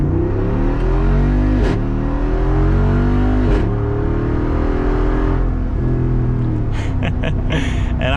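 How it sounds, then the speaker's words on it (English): A 2022 Jeep Wrangler Rubicon 392 accelerates hard from inside the cabin, its big engine rising in a loud, steady roar with brief dips between gears and a busier rattle near the end. "let's check out another acceleration."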